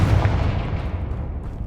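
Confringo fire-blast spell explosion in Hogwarts Legacy: one loud, heavy booming blast with a deep rumbling body that decays steadily over a second and a half.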